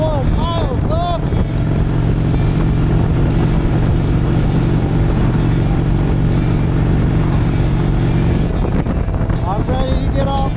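Motorcycle ride on an East Coast road from Kingston toward Calais, a steady engine drone with heavy wind rush close up throughout, a shift near the end, and voices talking briefly over it.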